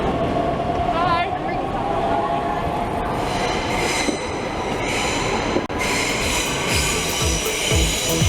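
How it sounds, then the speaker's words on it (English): A train pulls into Berlin Hauptbahnhof with steady rumbling, rolling wheel noise and high metallic squeals over a busy station backdrop, while people talk nearby. "Here we are, off our train in Berlin Hauptbahnhof."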